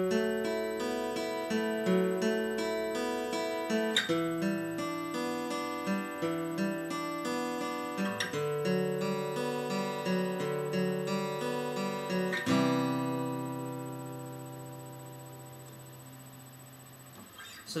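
Acoustic guitar strums the chords of a song, several ringing strummed chords at a moderate pace, the last chord left to decay, with no voice over it.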